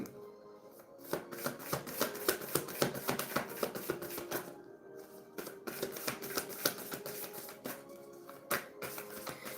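Tarot success cards being shuffled by hand, a steady run of crisp riffling flutters and soft slaps, close and fairly quiet, with brief pauses between bursts and no talking.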